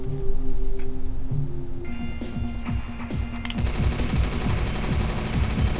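A mech's chain gun in the video game Startide fires rapid, evenly spaced rounds. It starts as short bursts, then becomes a dense, sustained stream of shots under steady game sounds, with no talking.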